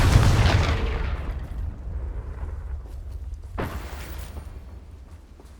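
Confringo blasting spell detonating in Hogwarts Legacy, a loud booming explosion at the start that rumbles and decays over several seconds, followed by a second fainter blast midway.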